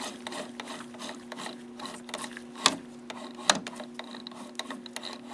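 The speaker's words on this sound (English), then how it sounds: "that little amount of spraying the white lithium grease in there quieted that joystick up" A Zeiss slit lamp's joystick elevation mechanism, freshly sprayed with white lithium grease, runs with a soft steady hum and faint mechanical whir, broken by a couple of sharp little clicks; quiet and close up.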